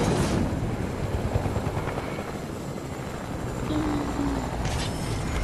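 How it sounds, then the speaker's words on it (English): Helicopter rotors and engine from the video game Fortnite keep up a continuous whirring drone throughout, steady and fairly loud, with a brief tonal blip partway through and no voices. "Can we get out the heli?"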